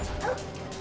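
A guard dog in the video game Splinter Cell Blacklist gives a short, close yelping bark, brief and clear over steady background noise.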